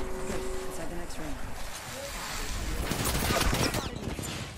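Rapid automatic gunfire from a firefight in Apex Legends, a dense burst of shots building through the middle and staying loud to the end, layered with game effects and a voice in the mix.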